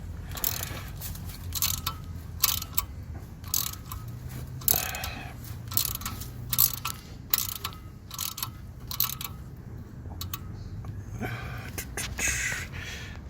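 Ratchet wrench clicking in short, uneven bursts while working loose the wheel bolts on a Toyota Supra, close and fairly loud, with pauses between the runs of clicks and no talking.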